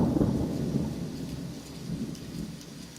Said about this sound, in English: here's an example of something like that, where the text prompt is this rainstorm with thunder